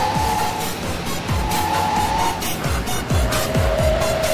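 A truck accelerating in Euro Truck Simulator 2: a steady engine drone with a rising whine, broken by repeated rhythmic thumps and short squeals as it picks up speed, loud and close with no talk.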